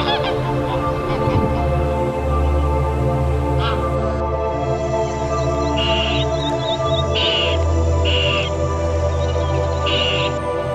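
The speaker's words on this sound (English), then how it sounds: "the different species of local and migratory birds" Wild geese and other local and migratory waterbirds honk repeatedly in short bursts over a steady low background hum at the water bodies of Pobitora Wildlife Sanctuary in winter, moderately near.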